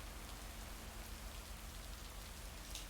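Steady rain falls in a farming video game, a dense, even hiss of drops continuing throughout with no voices.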